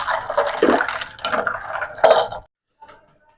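Banana juice pours over ice into a bowl, making a splashing, clinking rush of liquid that runs for a couple of seconds and then stops, followed by a faint drip or tap.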